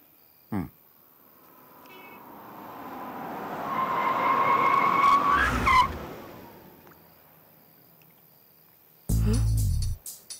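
A car approaches, its engine swelling louder with a whining pitch and a brief tire screech, then fades; a loud thumping burst follows near the end.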